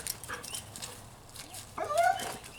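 A dog gives a short bark or yip on command during trick training, fairly close, with faint background noise and no talking.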